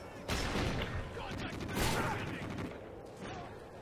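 Video game gunfire during a hunt for baboons comes as a quick volley of loud shots over a few seconds, with a player's voice briefly mixed in.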